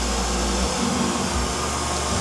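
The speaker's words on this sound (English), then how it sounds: "all these vacuum cleaning robots nowadays, they don't fall down the stairs" A Neato Botvac D75 robot vacuum cleaner runs indoors near stairs, giving a steady, loud whirring motor hum with a constant broadband airflow hiss and no pauses.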